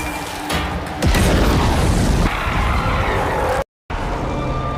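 A heavy explosive boom bursts out, followed by rumbling debris and a brief cut to silence, then lingering low roar.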